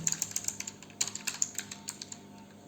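Code typed on a computer keyboard in quick, uneven bursts of crisp, close key clicks, about a dozen strikes with short pauses, no voice.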